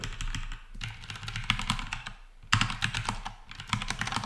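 Steady typing of code on a computer keyboard, dense rapid key clicks in two bursts with a brief pause between, close-miked and fairly loud with no talking.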